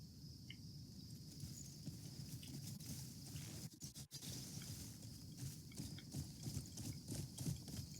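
Horse hooves clip-clop in a steady rhythm over a low rumbling background in the video game Crimson Desert, moderately quiet and continuous.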